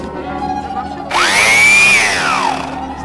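A repaired electric sander switches on with a sharp jump in level and runs loudly, its whine rising and falling in pitch over about two seconds before winding down, close to the microphone after a quiet lead-in.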